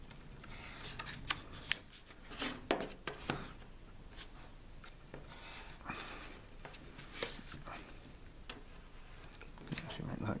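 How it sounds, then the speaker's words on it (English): Scalpel blade cutting through card for a homemade pizza box, a run of sharp scratchy strokes and taps repeating close by, with talking over the top. "I can cut more accurately than with the scissors, and I can just make my cuts here"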